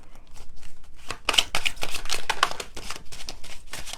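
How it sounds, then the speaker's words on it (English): Oracle cards being shuffled in quick, papery riffles and flicks, close up, with a few soft taps between bursts. "I always try to do, consciously do 3 shuffles"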